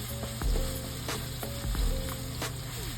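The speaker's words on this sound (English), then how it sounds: "Let's go ahead and stir our meat." Meat fries in a pan while being stirred, giving a continuous close, crackling sizzle with repeated scraping strokes of the utensil and no talking.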